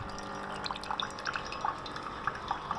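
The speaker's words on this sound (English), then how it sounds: "on this attempt, as you can see, it just trickles the water out at full speed" Water trickling and dripping from a Bosch Tassimo Happy CTPM12 coffee maker as it rinses through during descaling: a steady low wash with small, irregular drips and splashes close by.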